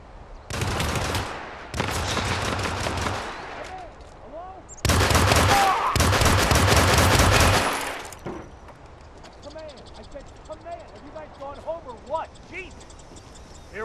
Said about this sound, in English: You got gunshots.